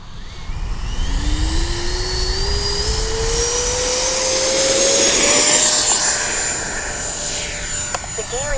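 A Freewing 90mm J-10 RC jet flies past with a steady, loud turbine whine whose pitch climbs as it approaches and then levels out, a broad rushing roar swelling midway before easing off near the end.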